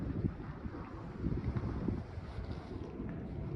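Wind buffets the microphone on a desert trail near a wind farm in winter, making a continuous low, rumbling roar that rises and falls in soft gusts.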